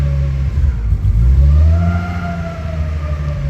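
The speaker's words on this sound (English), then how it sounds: "I'll rev it once or twice just to see if I can get it to stall out" A 1994 Nissan Skyline on a cold start revs loudly up and then settles back, with a steady rising and falling engine drone close by and no talking.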